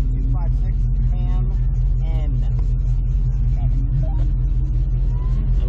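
A stock G-body car launches at an autocross with a loud, steady engine rumble. Voices talk over the engine noise throughout.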